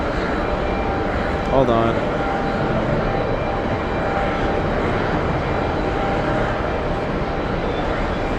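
A KLM jet spools up for takeoff from the runway threshold at JFK, a steady broad engine roar filling the whole stretch as a person speaks briefly over it.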